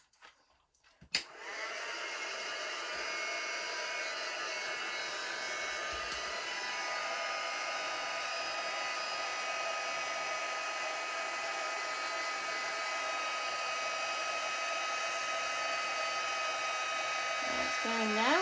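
Electric heat tool heat-setting embossing powder on a stamped card, starting after a click and running as a steady loud whine and whoosh for the rest of the clip, close and continuous.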